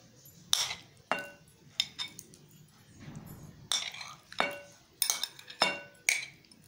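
Mixed fruits are spooned over a custard trifle in a dish, with a series of sharp clinks and scrapes of a metal spoon against the bowl, irregular and close, with no talking.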